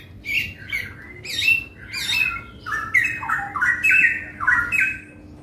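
Caged songbirds at a bird kiosk, tame and in full song, deliver a dense run of loud squawking and chirping calls one after another, with a low background hum underneath.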